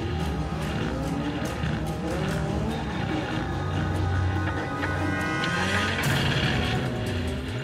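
Formula Vee race cars run in a qualifying session, engines droning continuously with rising and falling pitch as cars pass, a dense steady roar of several cars together.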